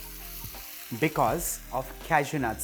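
Mutton simmering in a thick cashew paste, with a spoon or spatula scraping around the sides and bottom of the pan under steady frying sizzle, while a person talks over it close by.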